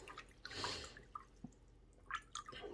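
A fountain pen ink converter is swished through a container of water to rinse out dried ink, giving quiet close-up drips and small sloshing splashes in short irregular bursts.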